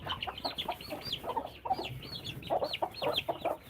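Farm hens clucking in a busy, overlapping chorus of short repeated calls, fairly close and continuous with no talking.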